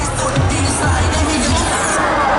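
A loud, excited crowd at a brand presenter launch for the six-member Thai boy group Proxie, with continuous clapping and cheering plus scattered shouts, steady throughout.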